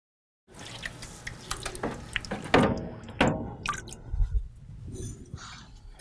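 Trion electronic air cleaner collector cells are lowered into a tub of cleaning solution, with close splashing, sloshing and dripping water in irregular bursts.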